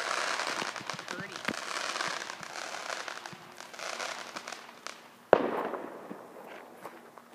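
Victoria Day fireworks crackle and pop at a distance through the clip, with one sharp, loud boom near the end followed by lingering crackle; people talk nearby.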